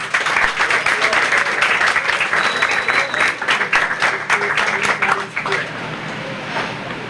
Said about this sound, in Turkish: Ona da bir alkış rica ederim